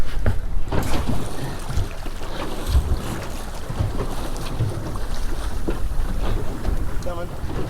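A fishing boat engine runs in gear at sea, a steady low rumble under heavy wind buffeting and water rush, with faint talk in the background.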